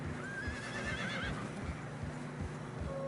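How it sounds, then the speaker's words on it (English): In Red Dead Redemption 2, a horse neighs loudly over steady clip-clopping hooves in fresh snow, the whinny rising and trailing off while the hoofbeats keep a walking rhythm. "Horses are getting tired."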